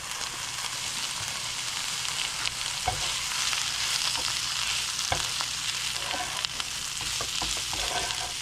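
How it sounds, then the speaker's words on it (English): Frozen vegetables sizzle steadily in a hot pan, a dense crackling hiss broken by occasional sharp stirring knocks, close and without speech. "I wanted to get the vegetables warmed through because they were still frozen"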